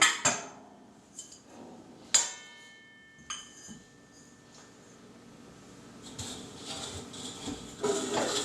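Metal parts of a wood burning stove clank and clink as a piece is lifted out from the top, with a few sharp knocks spaced apart, then a scraping, rattling stretch near the end.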